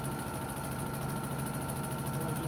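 A sewing machine stitches a hem in a continuous, even motor drone with a fine rapid ticking running through it, steady from start to finish with no voices.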